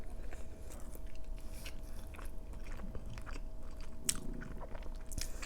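Someone bites and chews a gigantic burrito close to the microphone, with soft, irregular wet chewing and occasional crunchy bites over a low background hum.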